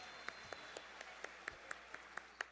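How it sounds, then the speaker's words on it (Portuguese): About a dozen sparse, evenly spaced claps, quiet and somewhat distant, like a few people clapping slowly in a hushed room. "Uma salva de palmas."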